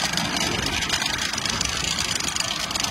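A stationary tractor idles steadily during a season's first hoeing, a continuous mid-loud rumbling drone with no talk over it.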